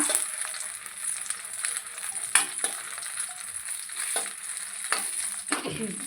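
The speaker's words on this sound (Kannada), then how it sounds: "ನೀರುಳ್ಳಿ ಬೆಳ್ಳುಳ್ಳಿ ಬೇವ್ರೆ ಒಂದು ಈತೇನು ಒಟ್ಟಿಗೆ ಫ್ರೈ ಮಾಡ್ಕೋಗ ಒಂಚೂರು ಎಣ್ಣೆ ಪಾಡ್ದು ಫ್ರೈ ಮಾಡ್ಕೋಕ" Onion and garlic fry in oil, a close, continuous bright sizzle with occasional scrapes and clicks of stirring, the hiss swelling briefly near the end.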